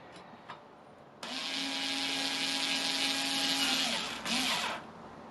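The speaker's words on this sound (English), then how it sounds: "I'm just using this just to get these screws started" After a couple of light taps, a power tool whirs up to a sustained high-pitched buzz driving screws into a QueenBee machine's Z axis, briefly dipping and surging again before stopping.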